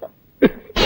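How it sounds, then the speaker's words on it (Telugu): Two sharp, close coughs from a person in a dramatic film scene, the second longer and harsher, separated by a brief quiet gap. "ఎక్కడిది దగ్గు?"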